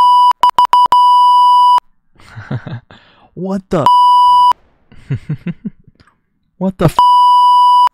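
A loud, steady censor beep cuts in repeatedly, blocking a voice at the press of a button: a quick stutter of short bleeps, then long sustained tones that alternate with bursts of excited talk.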